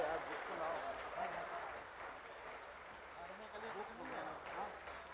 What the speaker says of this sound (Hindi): सभी जोरदार तालियों के साथ